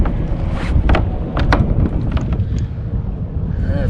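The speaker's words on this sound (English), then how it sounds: "the wind's starting to pick up" Wind gusting outdoors on a boat during a bowfishing trip, a steady broadband rush with louder buffets hitting the microphone, heard alone with no talking.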